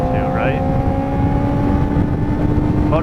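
A motorcycle engine drones with a steady, tonal hum, rising briefly in pitch at the start and again near the end, fairly loud and close.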